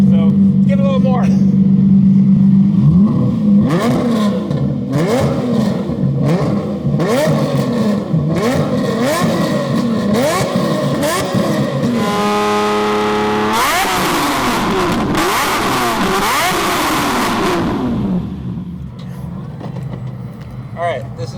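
A Lamborghini fitted with a straight-pipe exhaust revs hard and loud, rising and falling in repeated throttle blips, then climbs into a long sustained high-rpm roar before dropping back to a rumbling idle.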